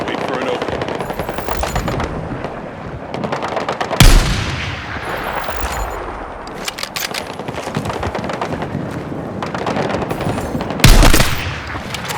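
Sustained, rapid machine gun fire from an MG nest in the Battlefield 6 campaign, loud and dense, with heavier bursts near the four- and eleven-second marks over a constant roar of battle.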